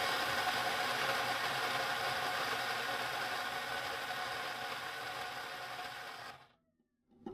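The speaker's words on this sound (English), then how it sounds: "We're going to do the whole grinding and, you know, that whole thing." Coffee beans grinding for espresso, a loud continuous whirring mechanical drone that runs steadily for about six seconds and then stops abruptly, leaving near silence.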